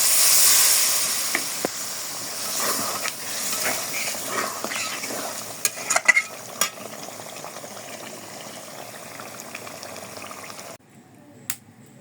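Meat curry frying in oil as water goes into the pan, a steady bright sizzle and steam hiss with occasional spoon scrapes and clanks of stirring, settling to a quieter simmer near the end.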